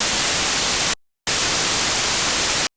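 Stereo noise from an FL Studio 3x Oscillator plays as two loud, flat bursts of broadband hiss separated by a brief clean silence, each cutting off sharply.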